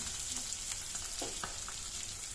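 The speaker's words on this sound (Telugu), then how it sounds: "ఇప్పుడు సేమ్ నూనెలోనే ఇప్పుడు నేను ఆనియన్ ఇవంతా వేసి ఫ్రై చేస్తున్నాం" Onions frying in hot oil for an egg pepper masala curry, giving a steady, close sizzle with a few soft stirring scrapes over it, with no talk.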